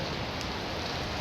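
Steady rain falling on a rooftop in Lahore, a dense, even hiss of drops close by, with no voices over it.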